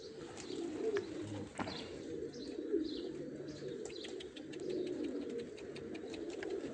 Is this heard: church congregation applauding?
no